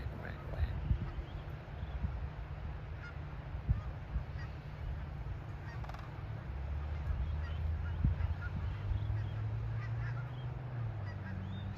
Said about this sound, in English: I hear the female duck.